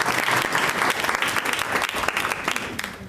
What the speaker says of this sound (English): So if you could give yourself a round of applause